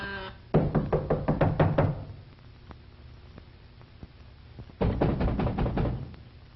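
Knocking on a door in a 1933 drama, two bursts of rapid loud raps near the mic separated by a pause with a few isolated knocks, no speech.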